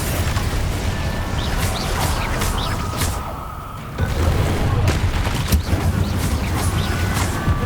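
Fire spells Confringo and Incendio cast in the game Hogwarts Legacy, a dense roaring barrage of fiery blasts and booms, loud and continuous, easing briefly before another burst of explosions.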